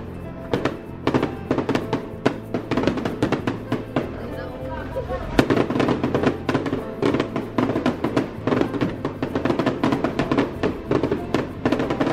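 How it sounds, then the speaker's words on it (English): Fireworks display at a Chinese New Year celebration in Bacolod City, Philippines: rapid, irregular bursts and crackling pops keep going, with people talking and exclaiming over them. "Oh my God, nag-start na yung fireworks display."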